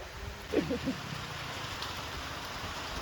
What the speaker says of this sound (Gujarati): મિત્રો વરસાદ ચાલુ થઈ ગયો ઝરમર ઝરમર